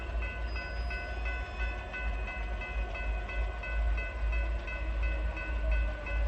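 A westbound Norfolk Southern freight train passes on the number 2 track of the Pittsburgh Line at Anderson, its rumbling wagons rolling steadily with a continuous metallic ringing and whine over the loud, low roar.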